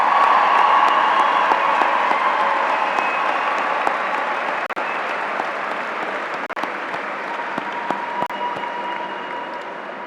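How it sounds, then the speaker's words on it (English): A large audience applauds at a Boston Police Academy graduation ceremony for new police officers, sustained dense clapping that stays loud throughout and eases slightly toward the end. "How about we give a big round of applause to Boston Stewart police officers?"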